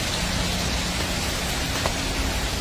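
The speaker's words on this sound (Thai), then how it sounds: "ฝนตกค่ะ" Continuous heavy rain hisses and patters on a surface, with no voices, steady and close throughout.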